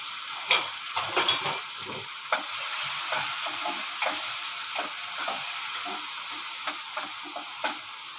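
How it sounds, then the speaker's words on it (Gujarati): Tomatoes, two green chilies and ginger paste sizzle in a pan for farali khichdi while a spoon stirs them, producing a constant frying hiss broken by light, regular scraping knocks, with no voices. "ટમેટા છે 2 એ નાખશું, 2 મરચાં લીધા છે. હવે આને બધું આપણે હલાવી લઈશું."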